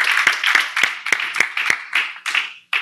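A crowd at a live challenge event claps and cheers for a contestant, a burst of rhythmic, fairly close applause that swells and trails off over a few seconds.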